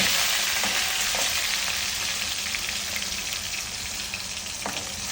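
Potatoes frying in hot oil for Vidarbha-style sabudana khichdi, a steady close, bright sizzle that holds alone throughout with faint occasional pops and crackles.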